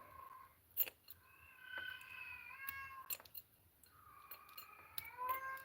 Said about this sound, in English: That's my cat. She might be in heat.